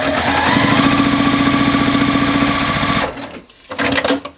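A sewing machine runs steadily, stitching a quarter-inch seam through a quilt block for about three seconds in a fast, even mechanical rhythm, then pauses and gives a short second burst; close and loud with no talking.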